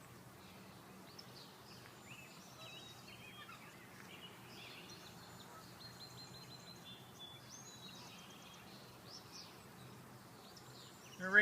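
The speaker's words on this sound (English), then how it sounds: "Listen to the nature of the birds." Small birds chirp and tweet in short scattered calls outdoors after rain, faint and distant over a quiet low background, with a brief louder rustle at the very end.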